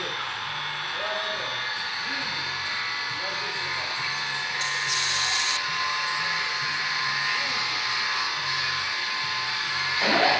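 A high-pitched electric drill whines steadily, drilling out a broken tap in the spark plug channel of a Hyundai H1 cylinder head, briefly rising in pitch midway, with low muffled voices talking underneath.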